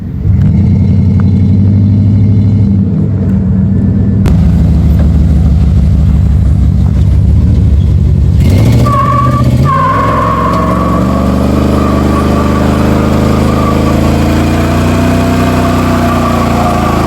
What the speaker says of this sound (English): Truck is running great. It's running that good.